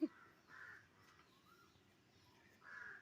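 A crow caws twice outdoors, moderately distant and fairly faint, with a long quiet stretch between the two calls over soft background noise.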